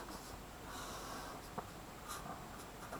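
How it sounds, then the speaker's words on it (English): Pen or marker strokes on paper or a board while a force diagram for a mechanics problem is sketched by hand, a steady soft scratching with a few brief sharper marks, close and alone over faint background hiss. "I'm going to draw exactly the same diagram"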